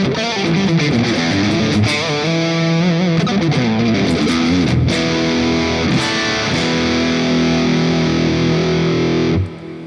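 An electric guitar solo played through a thick distorted tone, fast bending and sliding lead lines running continuously for about ten seconds at close, loud level, ending on a sustained note that cuts off abruptly; no talking.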